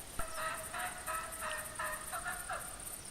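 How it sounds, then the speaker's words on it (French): A wild turkey in a video game calls in a series of short, raspy yelps at a steady rhythm, moderately distant, with no talking. "Donc le dindon n'a pas fui, hein, comme le montre le son qu'on entend."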